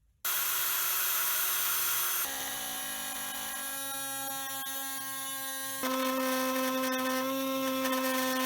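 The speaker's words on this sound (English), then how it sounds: "we'll get the drill out." An electric drill cuts a cooling hole in the plastic body of a 2008 Heng Long Sprint RC car, giving a steady, loud, high-pitched whine that shifts pitch twice as the load changes, with no talking.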